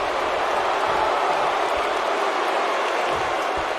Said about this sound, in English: Crowd letting them know how they feel here tonight.